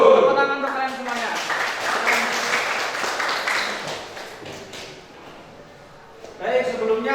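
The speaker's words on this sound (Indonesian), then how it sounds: "Tepuk tangan untuk kalian semuanya" A class of students applauds together in a school classroom, a dense steady burst of clapping that fades out over several seconds, with a teacher's voice speaking before and after it.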